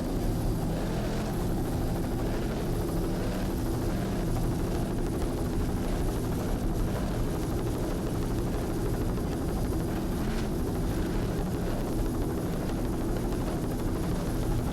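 A helicopter filming a 2003 offshore powerboat race at Point Pleasant, New Jersey, gives a steady, continuous rotor and engine drone that stays loud and dense throughout, with no talking.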